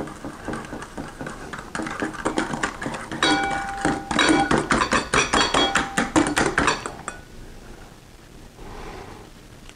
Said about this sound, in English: Our next step is going to be to whisk a little bit of sugar into our egg yolks.